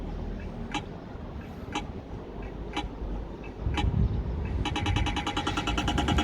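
A pedestrian crossing signal at a Swedish traffic light ticks slowly and steadily about once a second, then switches to a rapid ticking, set against steady street noise and passing traffic.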